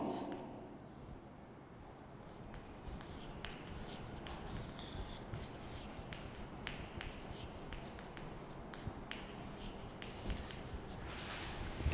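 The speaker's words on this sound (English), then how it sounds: "I am just writing again this formula." A pen or chalk scratches out a chemical formula on a board during a chemistry lesson, with steady tapping strokes and scraping over about twelve seconds in a quiet room.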